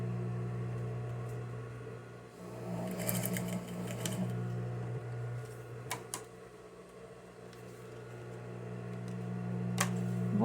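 A sewing machine runs steadily while stitching fabric binding on a hygiene kit, with a constant low motor hum and needle whir plus occasional sharp clicks, close up and without speech.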